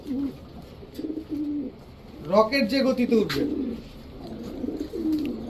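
A pair of army-breed high-flyer pigeons, a male and female, coo in brief bursts near the microphone while someone talks over and between them.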